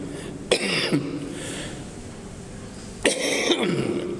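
Two sharp, harsh coughs break out a few seconds apart, each a loud burst trailing off, close by with a faint background hiss.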